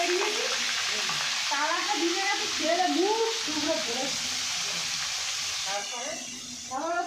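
Steady sizzling hiss of carrots and vegetables frying in a pan, with voices talking over it throughout at close range.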